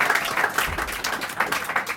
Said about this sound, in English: Can we give Adam a massive round of applause, please, on the sound?